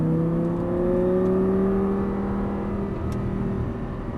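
An Audi R8 on a race track pulls hard under full throttle, its engine note climbing in pitch with a loud, continuous roar heard from inside the car.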